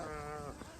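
Sheep on a ranch give a single drawn-out bleat, loud and close, with a quivering harmonic tone that wavers before trailing off.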